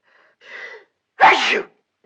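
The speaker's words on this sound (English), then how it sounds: "Look, she's sneezing." A single sneeze rings out close by: a soft indrawn breath, a short pause, then a sharp, loud burst.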